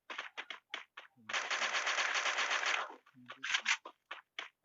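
Automatic weapon fire rattles in the Free Fire video game, with short separate shots, then a sustained burst of rapid fire lasting over a second, then more scattered shots, fairly clear and alone.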